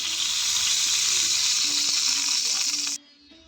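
Mustard oil for frying hilsa fish sizzles in a pan with a loud, steady hiss for about three seconds and then cuts off abruptly, leaving only faint kitchen sounds.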